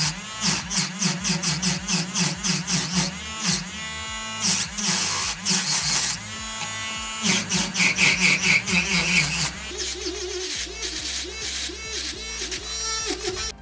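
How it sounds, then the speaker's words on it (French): Small abrasive rotary brushes work over the fine detail of flowers on handmade 925 silver hoop earrings, giving a steady high whirring grind that pulses in short bursts and shifts pitch as the tool presses and lifts. "je vais venir utiliser ces deux petites brossettes pour faire le détail des fleurs"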